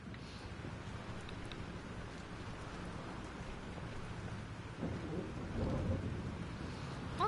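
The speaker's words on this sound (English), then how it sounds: "This storm is real." A video game thunderstorm: rain hisses softly and steadily under a low rolling rumble of thunder that swells slightly toward the end, all faint and distant-sounding.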